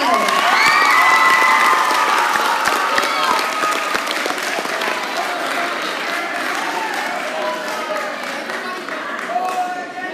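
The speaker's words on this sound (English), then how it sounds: "let's give them one more round of applause, all your representatives." School students in the stands clap and cheer for their newly chosen class representatives, a loud, dense crowd of applause mixed with children's shouts that stays strong throughout and eases slightly toward the end.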